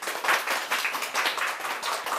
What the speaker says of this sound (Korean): 큰 박수로 한번 모셔볼게요